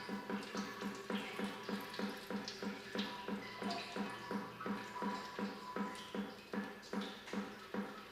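Coolant drains from an Audi A6 engine into a bucket, a quiet, steady trickle with rhythmic splashing pulses repeating about every half second throughout.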